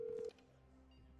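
A phone dials in the GTA 5 video game to call in a bomb: one short steady electronic keypad tone, then quiet game background hum.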